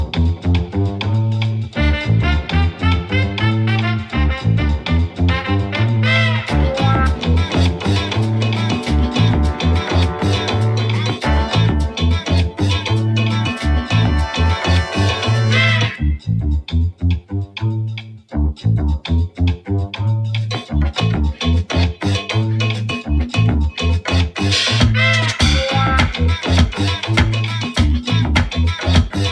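Sample-based hip hop track with a punchy looping beat and dense layered music, including a sample, playing loud and continuous with a short drop in the middle before the groove resumes, without any talking.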